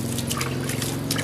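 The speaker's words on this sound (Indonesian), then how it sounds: "seperti ini, kita siram seperti ini." Probiotic liquid is poured and splashed onto fermented goat and cattle feed, a steady close trickle and patter of liquid lasting the whole short moment, with no talking.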